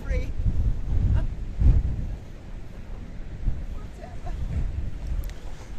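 Wind gusts buffet the microphone at Kato Paphos Harbour on a choppy day, giving a heavy, fluctuating low rumble with stronger blasts early on.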